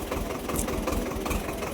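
A farm tractor hauling cucumbers through a muddy, silt-covered field, its engine running with a steady, rough mid-to-low rumble close by, no voices.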